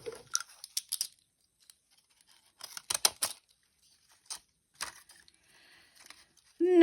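Scissors snip through paper scraps while making junk journal page tabs, giving short crisp cuts in a few clusters with quiet gaps between them, close by and fairly faint.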